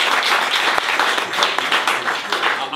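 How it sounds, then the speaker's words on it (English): Guests at a Magic Circle plaque party clap in a steady, fairly loud round of applause for the magician Paul Daniels, with scattered individual claps standing out from the crowd. "maybe a little round of applause for a lovely man that I know"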